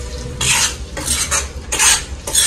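Chicken pickle is stirred in a pan in bursts of metal scraping and clinking, with a faint sizzle between strokes and no voices.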